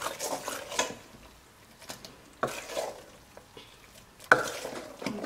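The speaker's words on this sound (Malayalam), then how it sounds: "അപ്പോൾ ഞാനൊരു സ്പൂൺ വെച്ച് നന്നായി ഇളക്കി കൊടുക്കുകയാണ്." A spoon stirs risen, yeasted appam batter in a bowl, soft wet slaps and clinks in a few bursts separated by quiet pauses.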